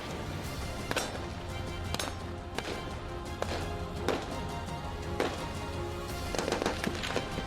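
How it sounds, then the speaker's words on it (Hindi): Gunfire from armed soldiers' weapons during a Taiwanese military war exercise, sharp repeated cracks and bursts over a dense, steady background noise, with no voices. "इसके बाद हथियारबंद सैनिकों ने गोलियों की बौछार करते हुए अपनी ताकत दिखाई।"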